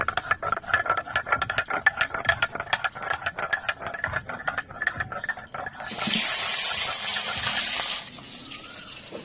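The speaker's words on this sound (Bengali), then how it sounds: "প্রথমে আদাটাকে বেটে নেব।" Ginger being ground on a stone spice grinder in a home kitchen, steady rhythmic rubbing and scraping strokes, close and fairly loud, followed by a short hiss of frying at the end.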